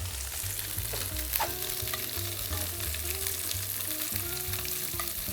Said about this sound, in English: So by just pan frying them like this, I think it gets crispy